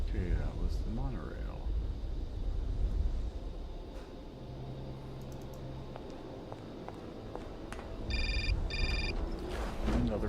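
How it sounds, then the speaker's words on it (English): A telephone rings in the Syberia video game, its short repeated bursts of ringing sounding twice near the end above a steady bed of game ambience and footsteps-like clatter. "Another phone call?"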